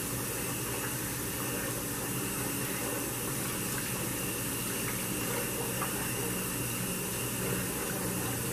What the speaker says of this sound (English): little bit at a time. This is hot water.